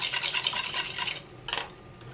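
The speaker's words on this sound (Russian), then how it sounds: "Опять добавляем кипящий бульончик понемножечку и хорошо размешиваем." A whisk beats eggs with hot chicken broth for soup, a close, rapid scratchy rhythm of strokes that stops briefly and then returns, with no talking.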